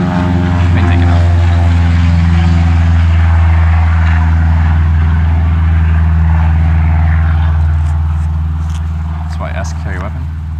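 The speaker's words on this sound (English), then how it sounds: "plane taking off" A propeller plane taking off from a runway at Kill Devil Hills, NC, a loud sustained droning hum that slowly fades toward the end, with voices talking over it.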